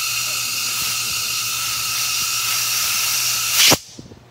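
A shop blowgun blasts compressed air onto a cleaned spark plug in a constant close hiss that cuts off sharply near the end, leaving a few faint clicks.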